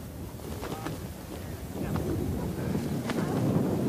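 Cutting wind buffets the microphone at Everest base camp on a bleak gravel expanse, a steady low roar that swells gradually louder, with faint tonal whistles and brief sounds over it.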